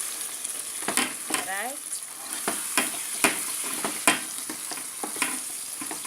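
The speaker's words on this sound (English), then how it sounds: "my chopped tomato, remember, and I'm gonna let it simmer for another 2 minutes." Fish curry with chopped tomato and green beans sizzles and simmers in a pan, with steady frying crackle broken by stirring scrapes and clinks, while a voice speaks briefly near the start.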